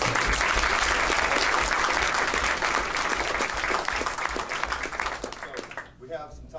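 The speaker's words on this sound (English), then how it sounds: "So I think that really deserves another round of applause" An audience applauds a speaker at the end of a talk on flipping the classroom: dense, steady clapping from a room full of people that thins and fades out in the last second.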